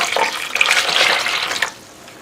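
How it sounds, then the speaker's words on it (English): Water is poured into a bowl of chopped garlic, ginger and onion while plantain fufu is cooked in a village, a short close splashing pour lasting under two seconds before it stops. "I am adding the water."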